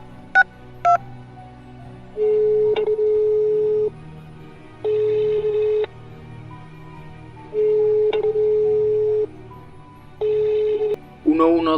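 Phone ringing on a call to the emergency number 112, heard as long steady ring tones repeating in bursts of about a second and a half with pauses between them, preceded by short dialing beeps.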